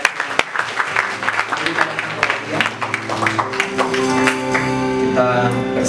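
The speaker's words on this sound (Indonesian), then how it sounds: "Berikan tepuk tangan yang terbaik." A church congregation claps in a busy, scattered patter while music with sustained tones plays underneath and voices are also heard, the clapping fairly loud and close.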